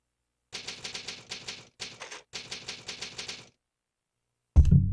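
Typewriter save sound from Resident Evil 3: Nemesis on PS1: rapid rhythmic clacking keystrokes in short bursts with a brief pause, ending in a louder thump, with no talking.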